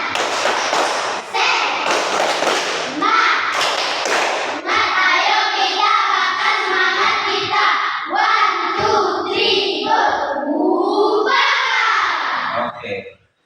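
A classroom of children doing the rhythmic 'tepuk semangat' clapping routine in a school lesson, sharp loud patterned claps and slaps alternating with kids chanting the routine together, close and lively.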